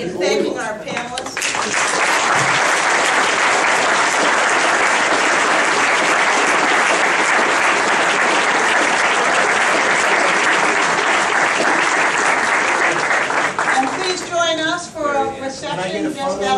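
An audience at a panel discussion claps to thank the panelists, loud sustained applause that fills the room for about twelve seconds before fading into scattered voices.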